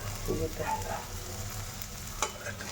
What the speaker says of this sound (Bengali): একটা শুকনো লঙ্কা ভেজে দিয়ে